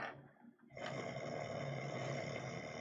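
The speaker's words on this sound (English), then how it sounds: "I'm gonna go over where I hear the snoring" Steady, rumbling snoring from a sleeping person, a continuous low rasp that swells after a short quieter gap, faint and heard without any talking over it.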